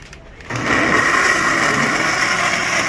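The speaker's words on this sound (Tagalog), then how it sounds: "Ako na ang mag-blender dito guys." A blender starts up and runs steadily with a loud, high-pitched motor whine that continues without a break.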